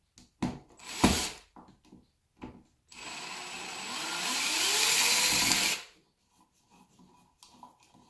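Power screwdriver fitted with a flat tip unscrewing screws from a double light switch, with a few short clicks and bursts before one sustained whirring run lasting about three seconds, then quiet handling sounds.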